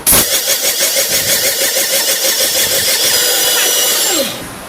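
A Panasonic mixer grinder is switched on and whirs loudly at close range with a rapid pulsing hum for about four seconds, then cuts off and winds down at the end.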